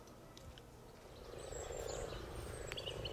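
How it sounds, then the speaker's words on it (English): A dense chorus of frogs croaking steadily by a pond, a low rattling mass of calls with faint bird chirps above. "Now, here by the pond, I can hear something quite interesting. It's some frogs."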